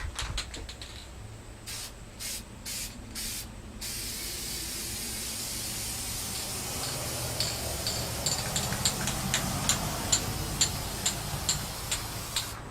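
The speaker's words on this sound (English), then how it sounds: "I'm going to go ahead and spray it down with some lacquer" A spray can hisses lacquer onto wood in several short bursts, then one long continuous spray with faint rhythmic ticking beneath it, close and steady.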